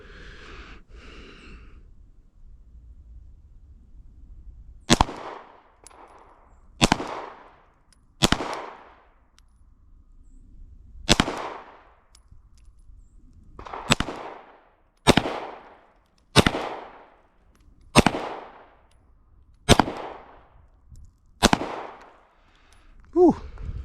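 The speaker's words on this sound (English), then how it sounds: "Still running that CCI Blazer 124 grain. It feels pretty good to shoot." A Glock 48 MOS pistol fires CCI Blazer 124 grain rounds: about eleven sharp, loud shots at uneven intervals, each with a brief echoing decay, after a short stretch of quiet ambient noise.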